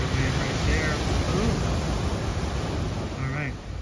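Ocean surf breaking at the Wedge in Newport Beach, a loud steady roar of crashing water with wind rumble, filling the whole moment without pause.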